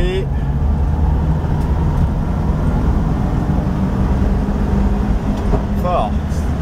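A 1967 Volkswagen Beetle 21-window bus on a test drive, its engine droning steadily at close range as it moves through the gears, with someone talking over the motor.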